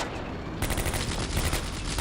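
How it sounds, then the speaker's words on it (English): Gunfire in the World War II strategy game Combat Mission: Beyond Overlord, fighting around Carentan: a quiet moment broken by a sudden burst of dense, rapid shots that keeps going as a loud, continuous fusillade. "they're being harassed by multiple gunfire"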